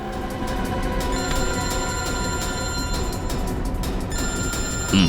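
A telephone bell rings steadily and loudly for about five seconds in a tense scene from a Tamil crime drama, its sustained tones sitting over a busy background hum, with no talking.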